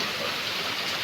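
Heavy rain pours nonstop at night, a dense, steady hiss of water with no pauses or other sounds over it.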